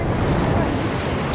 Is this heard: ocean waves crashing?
yes